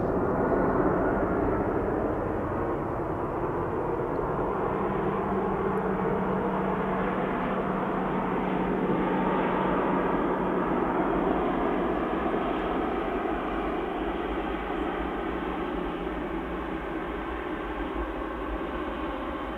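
EasyJet airliner landing on runway 23 right at Manchester Airport, a broad, steady roar of engine and rushing air heard from a distance, holding even for about twenty seconds with a faint tonal hum in the middle.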